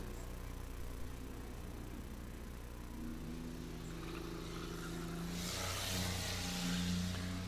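A 1999 Pontiac Grand Am six-cylinder race car engine at a racetrack, revving and climbing in pitch toward the end, heard at a fairly low level without talk.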